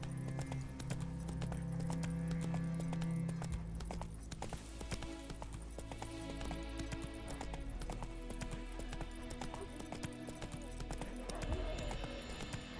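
Hooves pound in a quick, even galloping rhythm as Roach runs in The Witcher 3, with game music playing throughout.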